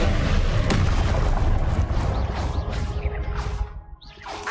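Confringo fire spell blasts from Hogwarts Legacy combat land as a heavy boom followed by a sustained roaring, crackling rumble that slowly fades, with a few whooshing sweeps near the end.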